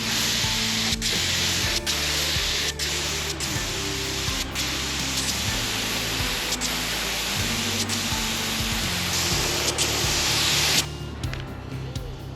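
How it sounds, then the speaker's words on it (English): Continuous broadband hiss of spray painting wheel hubcaps for an FJ45, steady and close for most of the stretch with brief breaks, then stopping near the end. "They are by far one of the hardest things I've ever had to spray paint."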